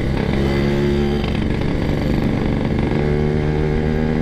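Yamaha RX-King two-stroke motorcycle engine running after repair work, a loud, close, continuous raspy drone with steady harmonic tones that dip briefly and then return, with no voices.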